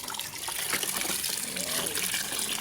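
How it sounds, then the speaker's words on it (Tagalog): Okra is rinsed in a basin of water, with steady close splashing and sloshing throughout and no speech. "Sugasan na natin ang ating okra para malinis."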